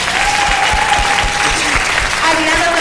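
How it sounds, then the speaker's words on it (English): A panel audience gives loud, close applause, a dense wall of clapping with some distinct nearby claps and faint whoops, continuing steadily throughout. "So let's give Ann a round of applause."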